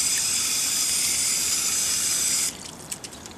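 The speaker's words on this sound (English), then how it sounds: "So we can easily water from the top" Water pours from above onto a bonsai's soil in a steady, close hiss for a few seconds. It then stops, leaving faint drips and trickles.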